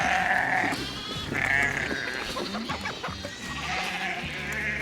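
Several sheep coming in to feed on a goat farm bleat loudly and close by in repeated, drawn-out calls, with overlapping animal voices and shuffling farmyard noise between them.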